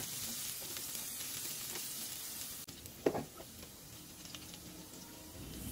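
Onion frying in oil in a pan for a Bengali tengra fish curry with potatoes, a continuous close hiss and crackle with one brief louder stir or clatter midway, no talk.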